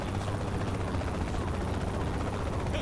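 Helicopter rotor drone from the video game Saints Row: The Third, a dense steady low thrumming that fills the whole stretch, fairly loud and continuous with no talk.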